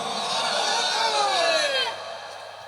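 A crowd at a religious gathering raises a loud, sustained collective shout of takbir, voices swelling together for about two seconds before dropping off, with a rising voiced tone near the end.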